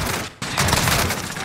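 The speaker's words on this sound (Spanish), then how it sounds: "Dios, la escopeta." Loud shotgun fire in the Call of Duty Warzone game comes as a short burst of blasts after a brief dip in sound, dense and close.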